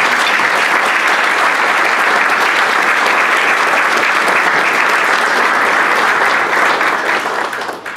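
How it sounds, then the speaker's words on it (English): A Rotary club meeting audience gives a long, loud round of applause for its honor scholars, dense even clapping holding steady for several seconds before tapering at the end. "So please join me in giving our Rotary Honor Scholars a round of applause."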